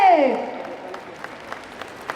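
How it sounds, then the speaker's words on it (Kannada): Audience applause welcoming a guest onto a stage, a short burst of clapping that fades quickly behind a voice speaking over it. "ವೆಲ್ಕಮ್ ಮಳ್ಳಿ ಚಪ್ಪಾಳೆ ರಾಧಿಕಾ ಕುಮಾರಸ್ವಾಮಿ ಅವರಿಗೆ"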